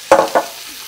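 Two short bursts of sizzling as meat hits a hot cast iron skillet, close and fairly loud, then a faint lingering crackle.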